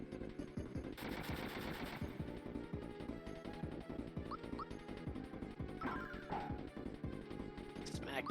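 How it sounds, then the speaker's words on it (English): Bullet Bills being shot in the Super Mario RPG video game, a rapid, steady stream of sharp repeated battle hits and impacts with occasional squeaky effects, moderately quiet and continuous throughout. "Shooting them bills."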